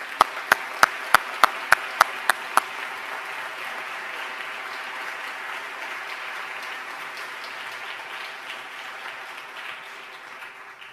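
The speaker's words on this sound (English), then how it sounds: "we'd like you to celebrate one another with applause at this moment" Audience applause at an awards ceremony for the 2019 Cleveland Arts Prize: a few sharp, separate claps open, then a broad sustained wash of clapping that slowly fades toward the end.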